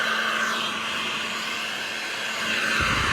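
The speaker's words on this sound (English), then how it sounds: "The first step you want to do is heat up the tile with the heat gun." A heat gun blows hot air onto a glued floor tile to loosen the adhesive, a steady close-up fan-and-blower roar that holds constant for the whole stretch with no talking.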